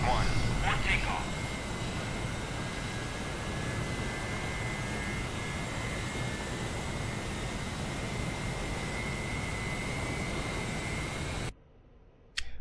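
An F/A-18 Hornet jet in the DCS World flight simulator takes off, a loud, steady engine roar with a high whine that cuts off abruptly near the end.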